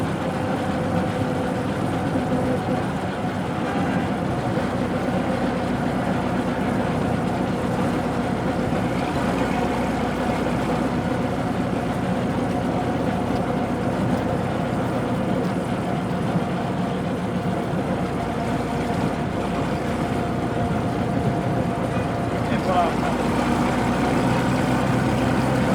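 A 1915 Hispano Suiza touring car driven by an 18.5-liter World War I V8 aircraft engine runs continuously with a deep, rough rumble and steady throb, moderately loud and close, with no voices.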